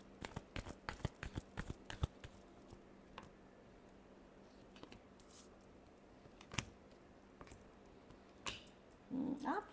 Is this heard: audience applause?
no